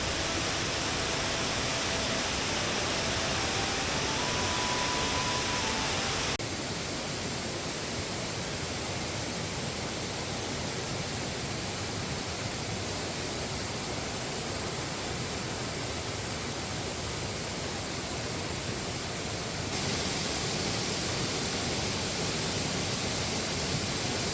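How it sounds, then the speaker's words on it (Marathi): Savatkada waterfall in Konkan, a dense unbroken roar of rushing, falling water, loud and steady for the whole stretch with slight shifts in tone, and no voices. "पाहत आहात पांढरा शुभ्र असा धबधबा, कोकणातील प्रसिद्ध धबधबा सवतकडा धबधबा."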